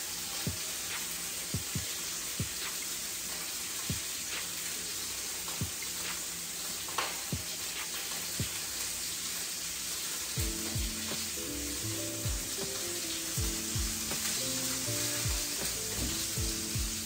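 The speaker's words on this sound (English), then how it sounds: "I'm gonna get this meat down and we're gonna get rolling." Meat searing in a smoking hot pan, a loud steady sizzle throughout with clinks and scrapes of stirring, joined by a low rumbling hum in the latter part.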